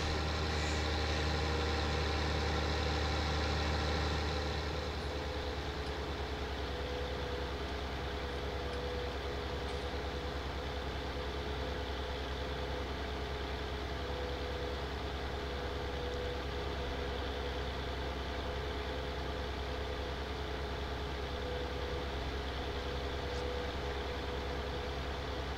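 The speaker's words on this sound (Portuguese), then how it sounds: "E o caminhão vem vindo, mas vem colado, vem grudado no trator" A truck engine in Farming Simulator 19 on the Matopiba map drones steadily and close at a constant idle-like pitch, louder for the first few seconds and then settling into an even, unbroken rumble with no talking.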